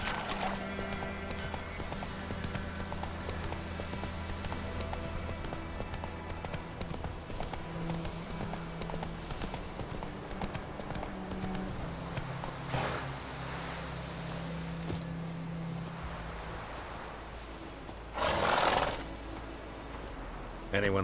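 Roach the horse gallops in The Witcher 3 in a steady run of clip-clopping hoofbeats under game music and ambience, with a brief whinny near the end and a voice speaking over it.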